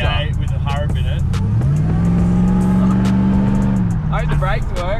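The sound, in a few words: car engine idling, VA cruiser with a Hurrup engine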